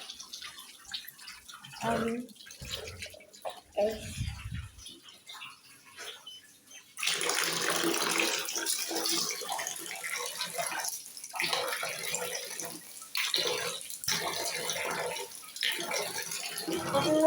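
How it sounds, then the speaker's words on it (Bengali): Water pours from a tap during face washing, a steady rushing stream after some splashes and drips, with a voice speaking near the start. "এখন আমি মুখ ধোবো।"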